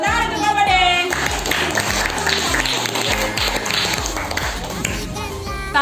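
A primary-school class claps for a student group after its presentation, bright irregular handclaps over steady rhythmic thumps of music, with children's voices mixed in and a louder burst at the very end.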